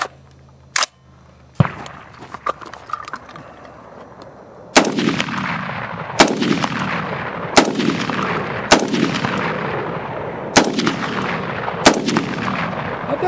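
A Bushmaster ORC AR-10 .308 rifle fires Venezuelan ammunition outdoors, an opening shot and a few sharp cracks, then a steady string of loud, evenly spaced shots about every one and a half seconds, each leaving a short echoing tail.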